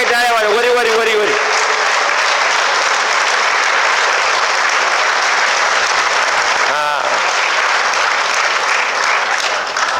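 A rally crowd at a Maharashtra assembly election campaign bursts into dense, sustained applause that carries on loud and even, with a speaker's voice briefly over the start and again midway.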